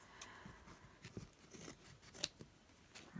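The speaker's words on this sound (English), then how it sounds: "I need the good scissors" Quiet, close snips and rustles of scissors cutting through a painted gift bag, a string of irregular small clicks and slides with no talking.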